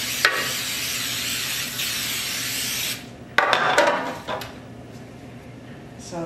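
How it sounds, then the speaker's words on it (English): Cooking spray hisses onto a cookie sheet in a steady close spray of about three seconds, followed by a shorter second burst and some faint handling noise. "So now I'll spray my cookie sheet."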